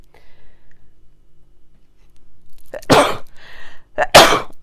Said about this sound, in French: Attendez, j'ai envie d'éternuer.